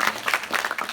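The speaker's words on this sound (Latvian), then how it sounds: "aplaus arī viņam" Audience applause at a young marketers' success-stories event, a steady wash of many hands clapping for a speaker being welcomed on stage, fairly close and continuous without breaks.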